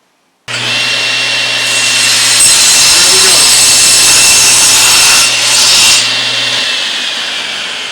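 A power saw trimming about an eighth of an inch off a wooden board, a loud, close, sustained whine that starts abruptly, holds steady while cutting through the wood, then trails off as the blade spins down.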